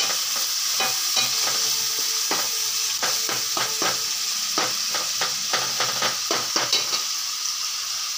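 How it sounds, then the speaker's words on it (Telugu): Tomato frying in oil for sambar crackles with a loud, close sizzle while a spoon stirs and scrapes the pan in quick, irregular bursts of clicks and knocks. "ఇది కూడా కొంచెం దానికి నూనెలో వేగే వరకు, పచ్చివాసన పోయే వరకు వేయించుతున్నానండి"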